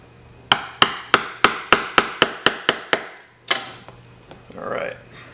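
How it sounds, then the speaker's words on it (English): Metal leather-stitching chisels are struck with a hammer through leather for a card wallet, giving eleven sharp, evenly spaced knocks, then a heavier blow and a few lighter taps, close and loud, followed by brief rustling. "These are actually new chisels"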